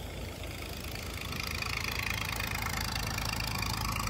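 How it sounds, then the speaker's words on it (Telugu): Two heavy dewatering pump motors run continuously at a construction site, producing a constant low mechanical drone with a broad hiss on top, steady and unbroken with no voices. "చూసారు కదా ఇక్కడ 2 హెవీ మోటార్సే రన్ అవుతున్నాయి"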